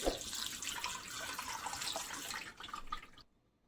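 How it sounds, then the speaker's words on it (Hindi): Half a glass of water poured into grapefruit juice with pink salt and black pepper, a steady broadband liquid splash running for about three seconds before stopping abruptly, close and moderately loud. "हाफ गिलास इसमें पानी ऐड करेंगे"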